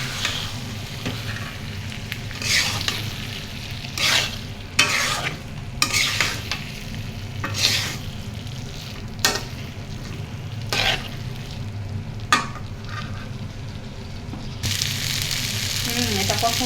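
Tomato being sautéed in a pan for a potato lentil curry, a continuous close sizzle broken by repeated bursts of spatula stirring and scraping, with a cough or two and no talk.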